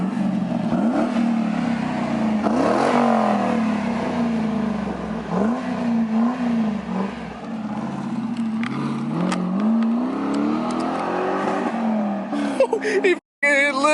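Car fitted with a new exhaust revs repeatedly up close, the engine note swelling and falling in short loud pulls with a rumbling idle between, while people talk nearby.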